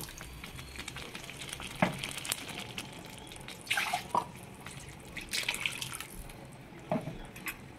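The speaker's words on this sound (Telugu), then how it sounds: "1 గ్లాస్ వాటర్ పోసుకోవాలండి" A glass of water poured into a hot pan of palak paneer, sizzling and bubbling in bursts with clinks of a utensil, close by and fairly quiet.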